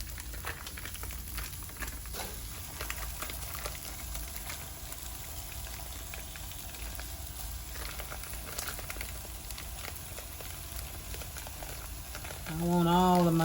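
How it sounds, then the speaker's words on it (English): Sausage meat for cheesy sausage empanadas frying in a pan, a steady close sizzle and crackle running throughout, with a louder burst near the end. "We are going to go ahead and probably drop in our meat at this point and let it cook up."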